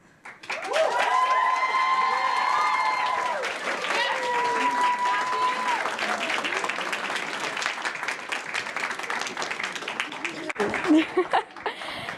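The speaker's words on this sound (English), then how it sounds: "Can we get one more huge round of applause for her, please?" Big round of applause and cheering from a summit audience, dense clapping building right after a sustained musical tone, holding loud for several seconds, then thinning into scattered claps and a few voices toward the end.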